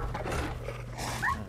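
Dog whimpering in the video game Fallout 4, a short, soft whine over a low steady game hum, with a brief higher whimper near the end.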